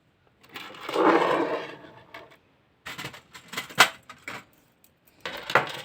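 Keychains, including a pink liquid-filled one, jangle and clink in a few short bursts close by, with brief pauses between the shakes.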